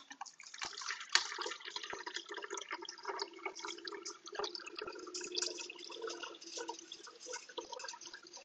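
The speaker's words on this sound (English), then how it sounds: "I'm just filling up some water really quick." Water running from a tap into a container, a steady broadband splash and trickle lasting throughout, close and moderately loud with no talking over it.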